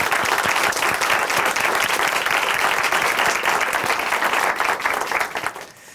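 A church congregation claps in praise during a worship testimony program, a loud, dense burst of applause that holds steady and then fades out toward the end.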